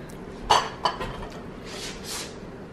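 Soup is ladled from a pot into bowls: two sharp clinks of ladle against dish ring out close by, then soft scraping and faint sloshing in a quiet kitchen.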